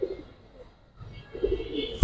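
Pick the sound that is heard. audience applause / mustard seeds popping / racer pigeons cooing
racer pigeons cooing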